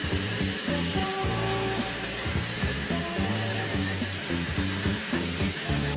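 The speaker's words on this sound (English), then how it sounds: "I'm going to be trying this hairdryer out now on my hair." Hair dryer fitted with a magnetic essence nozzle blows a steady, loud whooshing airflow with a low motor hum, continuous and close for the whole stretch, with no talking over it.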